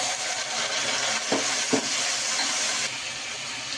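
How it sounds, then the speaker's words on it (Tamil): Curry leaves and tomatoes hitting hot oil in a frying pan for rice pulao give a steady loud sizzle, with two sharp crackling bursts near the middle before the hiss settles a little quieter. "கருவேப்பிலை போட்டுக்கலாம். தக்காளி போட்டுக்கலாம்."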